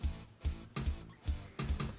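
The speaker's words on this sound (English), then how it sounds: "Punching the colander." A fist punching a metal colander, EQ'd as a drum sample, repeated as a steady series of short, clanky hits about every half second.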